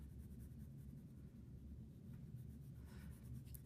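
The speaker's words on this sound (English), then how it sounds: "I'm going to do is kind of lightly wiggle my pencil along that edge that I've created." Graphite pencil lightly wiggled along an edge while shading a drawn sphere on paper, a soft continuous scratchy rustle, faint and close, with no voices.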